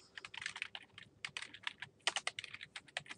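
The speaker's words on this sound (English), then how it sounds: "And you just simply type that in." Fingers type on a computer keyboard to enter field notes, quick irregular bursts of light clicking keystrokes, close and fairly quiet, with no voices.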